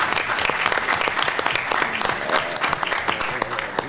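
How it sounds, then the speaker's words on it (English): A packed conference audience applauds Congressman Steven Horsford at a 2013 Congressional Black Caucus Foundation panel, the dense, steady clapping carrying on loudly through the whole stretch with no voices over it. "let's give Representative Congressman Steven Horsford another round of applause for putting this on."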